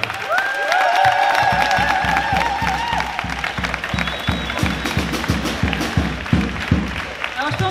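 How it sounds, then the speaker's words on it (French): Audience at a student event applauds and cheers, rhythmic clapping in a steady beat with crowd voices over it, fairly loud and close throughout. "On peut applaudir bien fort tous les intervenants et les intervenantes"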